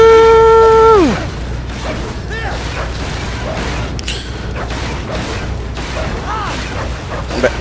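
An AP grenade explodes in the action game Metal Gear Rising Revengeance after a falling electronic tone, followed by repeated booming blasts and crashing debris at steady loud volume.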